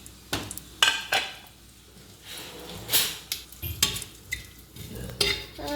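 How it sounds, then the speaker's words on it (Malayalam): Cloves being stirred and mixed into food in a kitchen pan, with a utensil scraping and clinking against the pan in a series of short, irregular strokes, close by and moderately loud, with no talking. "അപ്പോൾ നമുക്ക് ഈ ഉരുൾപ്പെട്ട ഗ്രാമ്പു ഇതിലേക്കൊക്കെ ചേർക്കാം ഇതിലേക്ക് മിക്സ് ആക്കട്ടോ"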